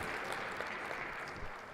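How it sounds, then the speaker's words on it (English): A conference audience at a car dealer summit claps briefly, a faint, distant and steady patter of many hands with no talking on top. "Another quick round of applause for both David and Mark O'Neill."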